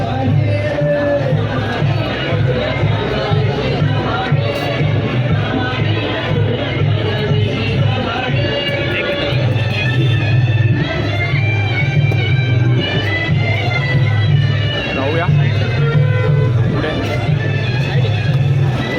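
A dense crowd murmurs and chatters continuously at a halt of the Sai palkhi procession, with a steady low rumble and busy background babble throughout.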